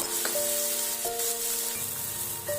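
Tomato, onion, ginger and garlic fry in a pan for a paneer tikka masala, a steady close sizzle with faint tonal hums and a soft clink near the end.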